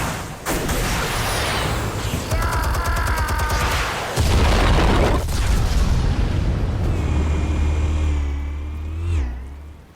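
Explosives detonating in the video game Batman Telltale Series, a loud sudden blast followed by heavy rumbling, mechanical whirring and a rising, revving roar that builds before fading out.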